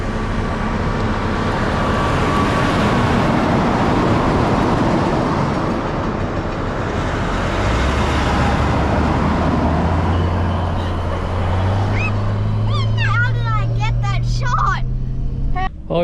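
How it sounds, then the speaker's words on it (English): Heavy truck carrying oversized mining equipment rumbling past on an outback road near Wiluna, a loud sustained roar of engine and tyres that swells and fades, with a low engine drone continuing and birds chirping toward the end. "So it looks like maybe a big bit of mining equipment on the back of a truck."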